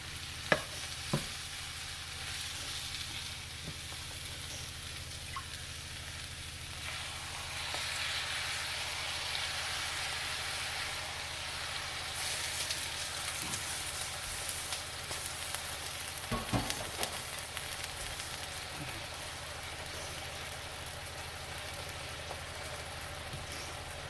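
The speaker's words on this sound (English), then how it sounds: "go ahead and add that bouillon juice and then just let it simmer" Bouillon juice simmers and sizzles steadily in a large skillet with browned meat, a continuous bubbling hiss with occasional clicks of a utensil, no voices.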